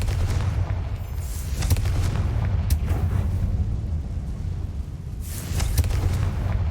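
Confringo blasting-spell explosions boom in the game Hogwarts Legacy, a loud continuous rumble of blasts with sharper bursts standing out, no talk over it.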